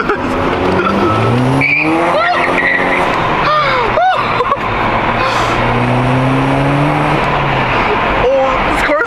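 A car engine revs hard with rising and falling pitch while tires squeal, loud and close, with voices briefly audible under the noise.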